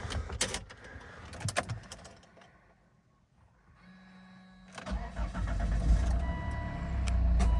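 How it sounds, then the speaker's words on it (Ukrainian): Volvo XC90 R-Design AWD D5 with a 2.4-litre diesel engine cranks and fires up, a brief starter whine giving way to a loud, steady diesel idle that builds and settles, close by. "Заводиться машинка гарно."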